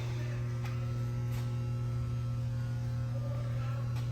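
Lanco 6000 amp, 24 volt water-cooled rectifier, refurbished, running with a steady low electrical hum and a faint buzz, continuous and even, no voices.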